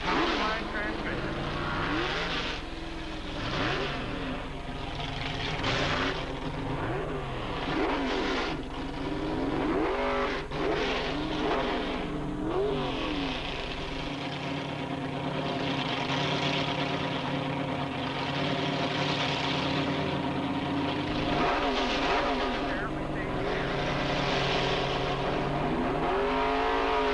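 Dragster race cars at Edinburg International Dragway in 1987 rev and idle at a distance for a long stretch, with repeated rising engine roars over a constant rumble while an announcer talks throughout.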